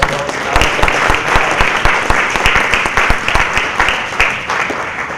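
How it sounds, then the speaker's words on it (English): Loud, close applause from a conference audience at a clean energy forum session: many people clapping together in a dense, steady burst for several seconds. "let's give one large applause"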